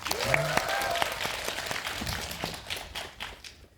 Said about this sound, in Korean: 박수 소리가 아주 우렁차서 저도 신이 나는데요